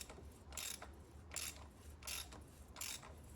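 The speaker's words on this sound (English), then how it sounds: "And tightening it the rest of the way with the socket." A socket ratchet tightens the oil filter cap on a VW 1.9 TDI PD130 engine, giving four evenly spaced bursts of quick clicking pawl ticks, close and crisp against quiet workshop background.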